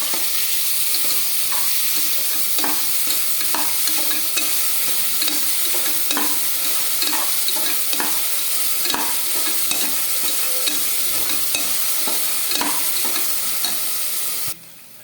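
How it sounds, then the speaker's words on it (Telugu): Ground onions, green chillies and cumin fry in hot oil inside a pressure cooker, a continuous close sizzle broken by frequent stirring scrapes for the whole stretch, with no voices. "కుక్కర్లో ఆయిల్ వేసి బాగా కాగాక పచ్చాగా గ్రైండ్ చేసుకున్న ఆనియన్స్, పచ్చిమిర్చి, జీలకర్ర వేసి బాగా ఫ్రై చేసుకోవాలి"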